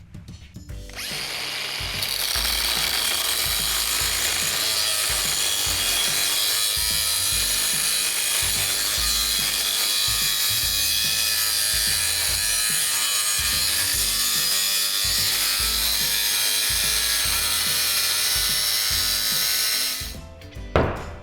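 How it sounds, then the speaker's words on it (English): A power tool cuts steadily through a piece of metal for about twenty seconds, making a loud continuous grinding whine with no pauses, then stops abruptly. "it's time to get to cutting this piece of metal."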